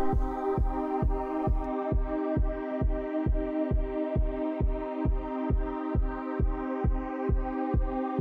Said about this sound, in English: Let's put some reverb on the lead in order to bring the higher EQ resonance out a bit more.